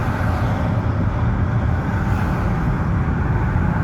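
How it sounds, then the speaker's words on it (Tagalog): Dense road traffic on EDSA in Manila, a steady, loud roar of cars, buses and trucks that holds constant throughout with no breaks and no talk. "Traffic."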